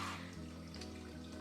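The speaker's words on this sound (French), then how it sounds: "Pour gagner du temps, je passe ça sous l'eau du robinet." Running tap water rinsing brine shrimp filters, a steady splashing gush at moderate level with no talking.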